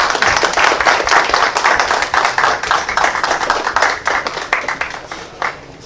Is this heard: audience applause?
yes